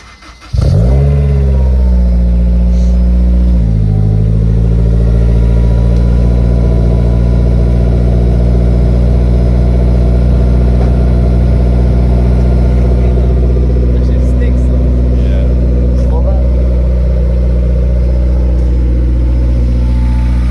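A Honda S2000 fitted with an aftermarket exhaust and test pipes cranks and fires up, then settles into a loud, steady, deep idle that drones on evenly for the rest of the time.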